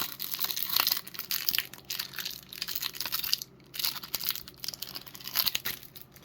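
Magic the Gathering product packaging is opened by hand, with close crinkling plastic wrap, tearing and crunching in uneven bursts throughout, with no talking.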